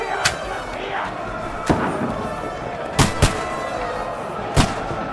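Gunfire and heavy thuds in a medieval battle from the video game Kingdom Come: Deliverance 2, with several sharp, loud bangs at irregular intervals over a constant din of fighting and crowd noise.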